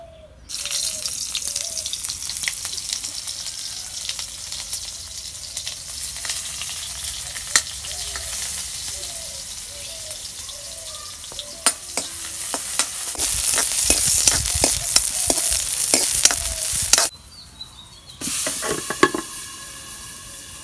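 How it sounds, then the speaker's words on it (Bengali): Oil sizzling in a hot wok while cooking a magur fish recipe: a steady bright hiss runs throughout, swelling into a louder, fuller crackling burst near the end before briefly dropping away, close and with no talking. "কড়াই গরম হচ্ছে এখন আমি তেল দিয়ে দিব"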